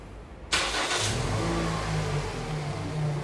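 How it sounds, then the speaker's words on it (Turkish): A Toyota RAV4 engine cranks and catches with a sudden loud start, then settles into a steady idle hum up close; no one speaks. "Bir çalıştırın arabayı Ömer Bey."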